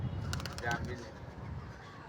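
Pigeons coo at a house, a soft low murmur running steadily through the clip beneath background noise and a nearby voice.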